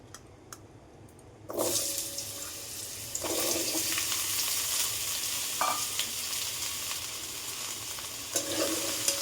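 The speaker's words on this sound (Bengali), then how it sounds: "এইবারে আমি এই ডুমো করে কেটে রাখা আলুটা দিয়ে দিচ্ছি।" Diced potatoes dropped into a hot pan for a quick paneer and potato curry: quiet ticking at first, then a sudden loud sizzle that keeps going, with scraping stirs breaking through it, close by.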